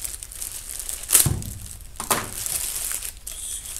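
A knife slices packing tape on a box of Lucas motorcycle fork oil, giving crinkly tearing rips with two short louder bursts over a steady rustle, close by and with no voices.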